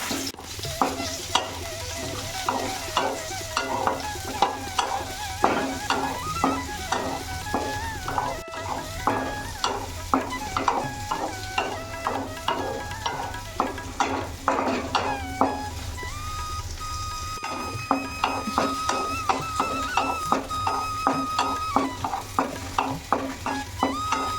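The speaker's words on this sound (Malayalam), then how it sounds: "എന്നിട്ട് നന്നായിട്ട് ഇളക്കാം." Chopped plantain fries in ghee while being stirred steadily, a dense rhythmic scraping and clacking of spoon on pan over continuous sizzling for a long stretch.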